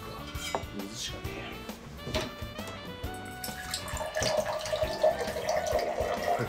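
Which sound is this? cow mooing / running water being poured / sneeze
running water being poured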